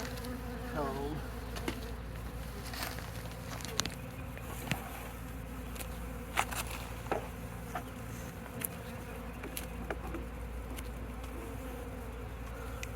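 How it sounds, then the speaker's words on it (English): Steady buzzing of many gentle bees close by around a log hive, a constant drone with scattered soft taps and clicks, no voices. "These are very gentle, nice bees."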